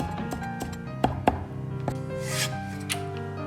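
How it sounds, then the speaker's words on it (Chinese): Ginger is minced with a kitchen knife on a board for mapo tofu, giving a few separate close taps and two sharper chops over a quiet background, with no voices. "生姜适量，切成姜末。"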